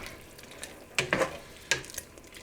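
Vegetables are stirred into a pot of pesto chicken soup, giving a few short, close scraping and splashing strokes spaced unevenly over a faint steady background.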